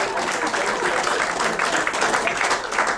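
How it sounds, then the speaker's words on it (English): An audience at a leadership luncheon breaks into steady, dense applause that fills the room, with faint voices mixed into the clapping. "I get an applause for that."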